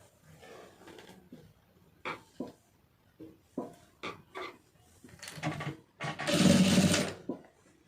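A sewing machine stitches a plain blouse along a marked line, with short, separate clicks and whirs early on, then a louder continuous run near the end, heard close up.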